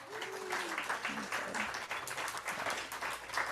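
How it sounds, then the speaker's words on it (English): A church congregation applauds for a member's birthday, a steady patter of clapping from many hands through the whole stretch, moderately loud, with a brief voice sliding over it near the start. "She'll be celebrating a birthday tomorrow, so let's give her a round of applause"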